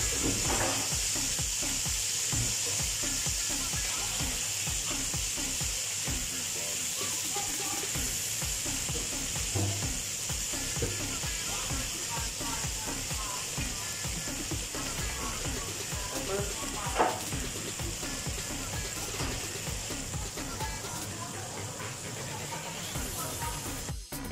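A rib eye steak sizzles as it fries in a pan, giving a continuous close hiss and crackle with occasional spatters. People chat intermittently over the frying.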